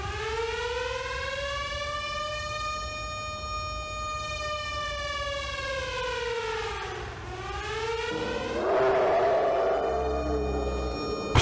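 A wailing siren rising and falling, heard from a distance in a horror setting, a long steady tone that sweeps down and then gives way to rougher noise.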